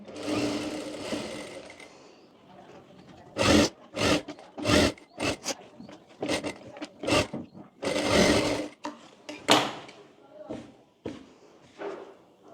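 A sewing machine stitches blouse fabric in loud, close bursts of rapid mechanical whirring, starting and stopping several times, with a voice talking between and over the runs.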